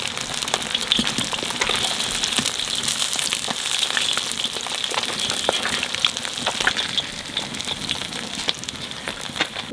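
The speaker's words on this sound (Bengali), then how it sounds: "মাছ ভাজা তেলের মধ্যে বাগুনটা একটু ভাজিয়ে নেব।" Brinjal fries in oil left over from frying fish, giving a dense crackling sizzle with scattered pops and spits. It runs at an even level throughout.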